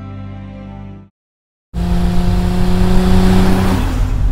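A car engine revs hard in a television car advertisement, loud and close, starting after a short silence and holding a strong sustained drone with rising pitch.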